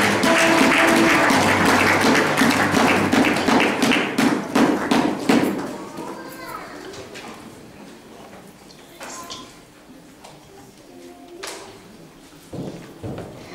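A church congregation in an evangelical assembly in Marseille applauding, loud rhythmic clapping that thins out and fades, followed by quieter room sounds and scattered taps.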